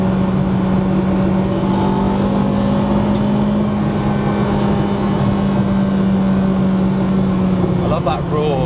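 A Honda Integra DC5 RSX Type R being driven gives a loud, steady engine drone with raw intake induction noise heard from inside the car, with some talk over it.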